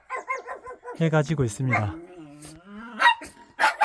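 Dogs at a rural country house bark in short, sharp bursts, fairly close, mixed in with a person talking nearby.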